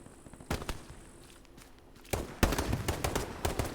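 Gunfire in a video game battle, sharp bursts of several shots in quick clusters, quieter at first and then a louder rapid volley near the end.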